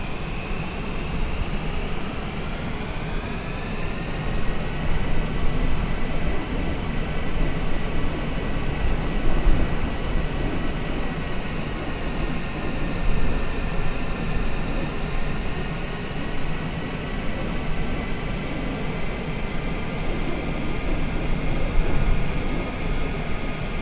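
Airliner jet engines whine and roar steadily during taxi in Microsoft Flight Simulator, a constant loud turbine drone with high-pitched tonal whistles that rises and falls slightly in intensity without a break.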